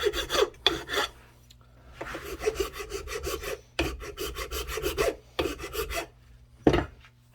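A large file rasps over cow horn being rough-shaped into a pocket powder horn with a French spout, in repeated close, loud strokes of about a second each, separated by short pauses.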